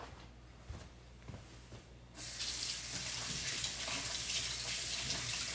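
Tap water starts running at a sink and keeps flowing steadily as a hand is rinsed after a manicure scrub, a close, loud, even rush after a few quiet seconds.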